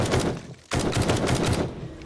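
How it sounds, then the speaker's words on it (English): A semi-automatic assault rifle in the 7 Days to Die video game fires a rapid string of close, punchy single shots, broken by a brief pause near the start and then resuming in a quick, steady cadence. "It's not an automatic gun. It's a semi-automatic. You have to click, click, click for it to fire."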